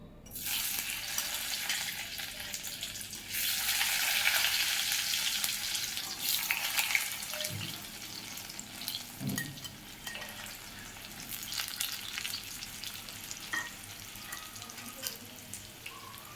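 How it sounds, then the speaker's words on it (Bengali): Cut potatoes frying in a pan, a steady close sizzle with hissing bursts and a few soft clinks of stirring, no talking. "এবার কেটে রাখা আলুগুলো একটু ভেজে নেব"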